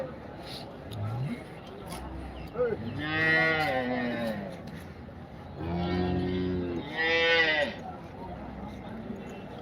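Cattle at the Erode Karungalpalayam livestock market give two long, loud moos close by, separated by a short pause, over crowd noise and people talking.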